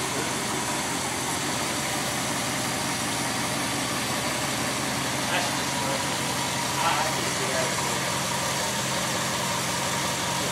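A 1966 Ford F100 pickup with a 352 V8 idles nearby, giving off a steady, even engine hum and rumble that holds without revving for the whole stretch.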